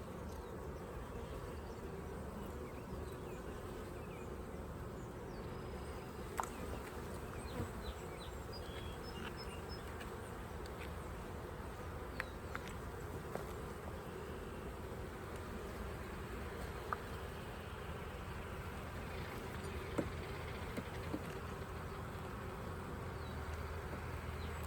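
Honeybees hum continuously around an open backyard beehive on a bright day, a soft, even buzz of many insects with a few individual bees briefly passing close.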